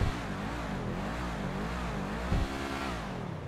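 The Ocelot Lynx sports car in GTA 5 Online revs its engine, a steady mid-pitched drone that rises and falls in waves, with one sharper blip near the end and no talking.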